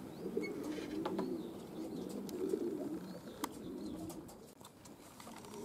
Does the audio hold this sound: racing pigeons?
yes